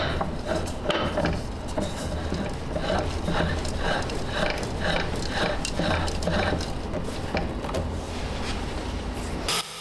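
A rose engine lathe runs while cutting a walnut hollowform, giving a continuous mechanical whir with a rhythmic ratcheting, clicking texture that stays steady throughout at moderate level.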